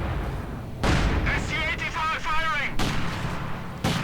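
Mortar fire in the video game Company of Heroes 2, a few heavy booming blasts at about one-second intervals, mixed with battle sounds under a commentator's voice.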